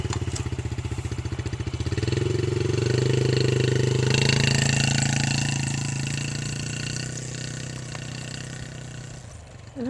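Off-road vehicle engine running on beach dune trails, a loud steady motor drone that swells and rises in pitch as it revs, then eases and fades toward the end, with a rushing, whooshing texture throughout.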